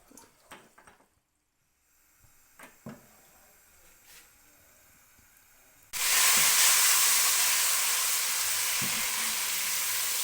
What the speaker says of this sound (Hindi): अब इसको हम फ्राई करेंगे, ब्राउन करेंगे, थोड़ा इसको भूनेंगे ऑयल के अंदर, अदरक और लहसुन के पेस्ट को